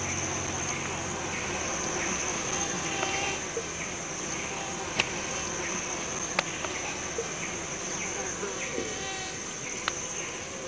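Dense insect whine and chirping fill a freshwater swamp in the Kombai region, a steady droning chorus like swarming mosquitoes with crickets, continuous and close, with a few sharp clicks scattered through.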